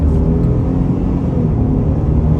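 A 2023 Ford F-150 XLT FX4 pickup accelerates on the gas from a rolling start, its engine a loud, steady low rumble heard close up from inside, with no talking.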